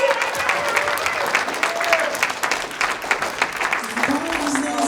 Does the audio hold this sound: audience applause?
yes